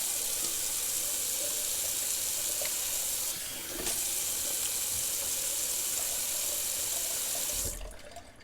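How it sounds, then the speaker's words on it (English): Tap water runs steadily for a room-temperature rinse during a wet shave, a close, continuous hiss with no voices that stops near the end. "water rinse."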